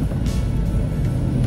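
A big truck on a rural alternative road between Grobogan Purwodadi and Solo rumbles past close by, a steady low engine and road roar that stays loud through the short stretch.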